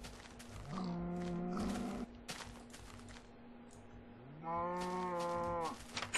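A cow in the Minecraft video game gives two long, loud moos with a short quiet gap between them, alone over faint background noise.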